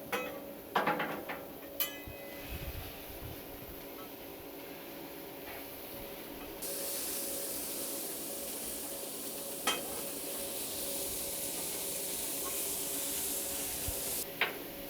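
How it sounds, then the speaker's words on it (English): Cheese fries chopped and mixed with spatulas on a Blackstone griddle, steady sizzling with scattered metal scrapes and taps, a louder bright hiss rising midway and holding, no talking. "You take your spatulas and start spatulaing it up. Just start cutting it up and mixing it up."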